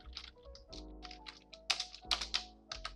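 Code being typed on a computer keyboard, a close, uneven run of light key taps and a few louder strikes, heard alone without speech.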